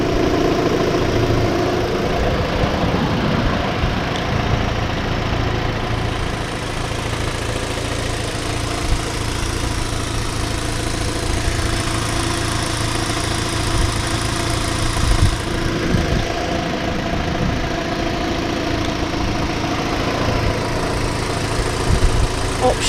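A Rover 45 engine idling steadily, with the power steering pump whirring continuously over the low, even engine hum throughout, close and unbroken.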